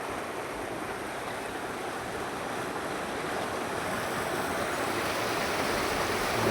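Floodwaters of the Kalubhar river in monsoon spate overflow its banks below a dam near a village in the Bhavnagar area, giving a steady, broad rushing roar that swells slightly toward the end, with no voices.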